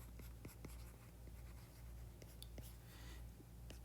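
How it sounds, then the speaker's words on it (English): Chalk or marker writing on a board during a physics lecture on conservation of energy: faint scratching strokes and light taps, quiet and somewhat distant, with a soft voice barely present. "I'll just write that down."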